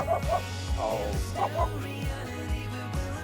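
Small dog giving short yips and barks at a campground during an RV trip, several quick calls repeating at irregular intervals, moderately close, with a brief spoken exclamation at the start.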